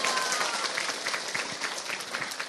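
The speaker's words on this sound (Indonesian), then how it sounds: "tepuk tangan dulu dong" An audience at an Islamic religious talk applauds on the speaker's prompting, a steady, dense round of many hands clapping at moderate distance, with faint crowd voices underneath.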